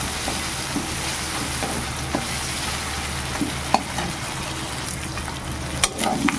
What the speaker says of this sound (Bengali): খুব সুন্দরভাবে মাছের তেল ভাজা হয়ে গেছে দেখুন